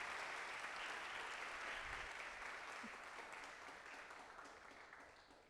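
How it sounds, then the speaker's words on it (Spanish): A loud, steady burst of audience applause at a campus event, dense clapping that keeps going for several seconds and slowly fades, with no speech over it. "este fuerte aplauso de reconocimiento"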